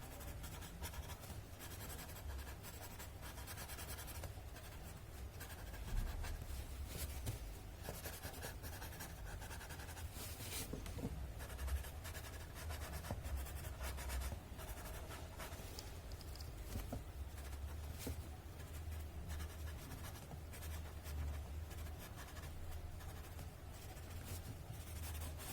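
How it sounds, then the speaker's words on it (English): Soft, faint rubbing and scratching of a finger or blender smudging graphite pencil shading across paper, close and continuous with light irregular strokes. "just with a light hand, just smudging the graphite that I have put."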